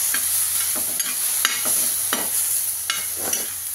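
Yogurt and chillies are stirred in a hot frying pan, a constant bright sizzle broken by several scraping spoon strokes roughly every half second to second, close and alone.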